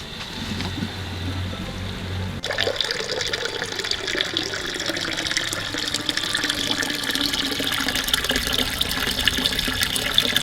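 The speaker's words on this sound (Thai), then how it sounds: "คือปั๊มน้ำเนี่ย มันจะดูดน้ำเข้ามาใช่ไหม ดูดเข้ามาในนี้ เป็นท่อต่อ อ่ะ เปิดละ" A pond filter water pump for a fish pond, intake at the bottom and outflow at the top, switches on and runs steadily, giving a continuous rushing, splashing flow of water that grows slightly louder and holds without pause.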